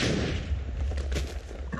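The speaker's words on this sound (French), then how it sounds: "quand je pose une TNT, elle s'active directement. Et là, ça, c'est le Insta Boom" Explosions from TNT in Minecraft on the Hypixel server: a deep rumbling boom opens loud, followed by a few more muffled bursts and thuds that fade.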